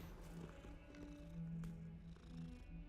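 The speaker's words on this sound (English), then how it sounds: "Oh, cat." Soft, steady purring from a cat in the Hogwarts Legacy video game, a low continuous rumble lasting a few seconds with faint game ambience behind it.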